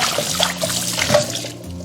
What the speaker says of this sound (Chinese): 接着倒我们提前准备好的冰水，然后再给它浸泡个10分钟左右